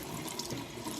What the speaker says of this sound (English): Rinse through a few times, get them moist again, let all the extra water